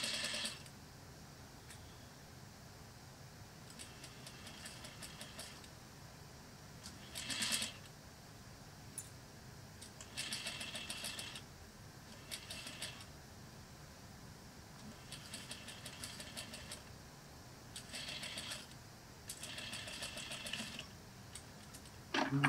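A sewing machine stitches a French seamed sleeve at the shoulder in several short bursts of fast rattling, separated by pauses, quiet and fairly distant.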